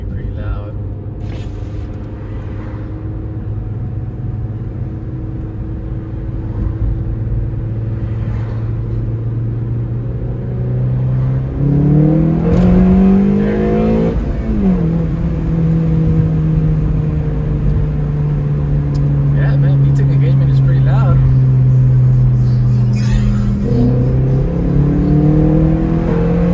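A 9th-generation Honda Civic fitted with a test pipe revs hard through a second-gear pull, its loud, raspy engine note climbing steadily, dipping at a shift, then rising again as VTEC engages, with someone speaking over it.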